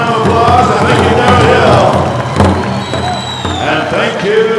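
A pow wow crowd at the Gathering of Nations breaks into loud, sustained cheering and applause with whoops, a dense roar filling the space, with voices mixed in.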